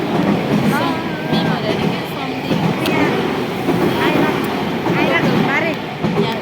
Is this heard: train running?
yes